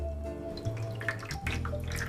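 Water trickling and splashing as it drains off a block of homemade tofu, a steady wet pour with small drips over a couple of seconds, no voices.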